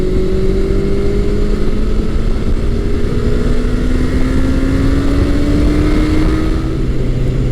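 A 1984-1986 Honda Nighthawk 700S motorcycle engine hums smoothly and continuously while riding, a steady drone with slowly rising pitch and wind rush, no voices.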